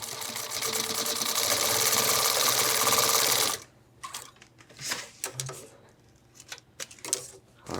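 A sewing machine stitches through thick backpack fabric, whirring in a fast, steady run for about three and a half seconds before stopping, followed by a few short, stuttering bursts and clicks.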